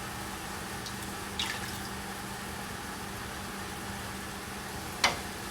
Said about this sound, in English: and then adding a can of coconut milk